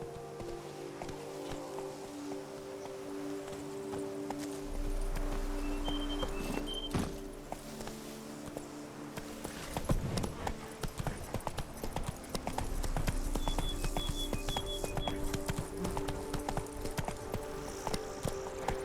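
Roach, a horse in The Witcher 3: Blood and Wine, clip-clops along with steady hoof rhythm over a game music bed, hoofbeats growing busier and louder midway and continuing to the end.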